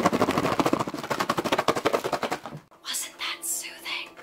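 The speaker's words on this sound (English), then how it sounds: "the first trigger is shaking. A nice, calming, rattling sound." An item is shaken as an ASMR trigger, giving a fast, rhythmic rattle of close clicks for about two and a half seconds before a voice speaks softly.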